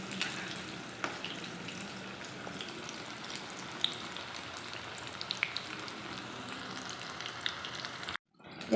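Chicken 65 pieces fry in hot oil, a soft continuous sizzle and crackle with occasional sharp pops, close and fairly quiet, ending in a brief silence.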